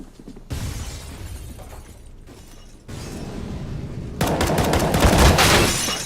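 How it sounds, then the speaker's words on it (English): Gunfire and a grenade blast in a CS:GO match, starting with sporadic shots, then a heavy crashing burst near the end with scattered crackling debris, loud and close, with no talking. "Throwing a grenade."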